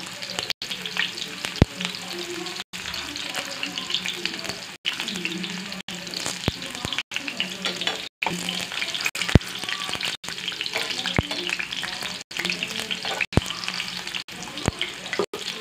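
Egg-free koftas fry in hot oil with a steady dense crackle and sizzle, broken by brief gaps and sharp clicks as the pieces are turned.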